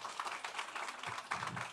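A small congregation at a live Spanish-language church broadcast gives applause, a soft, thin patter of scattered clapping heard faintly and at a distance for under two seconds.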